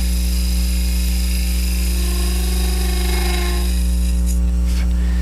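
Hunter No. 4 cupped carbide turning tool cutting on a wood lathe, starting in the middle of the piece: a steady, loud motor hum with continuous tonal whine and scraping, close and unbroken, no talking.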